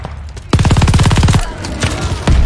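Rapid automatic gunfire in Call of Duty: Vanguard multiplayer, a loud dense burst of shots followed by scattered single cracks, with no talking.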